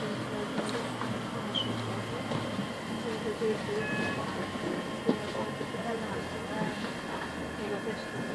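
A train carries passengers from Nunhead to Peckham Rye, giving a steady, continuous rumble of wheels and carriage noise with a soft rattle throughout and a faint voice now and then.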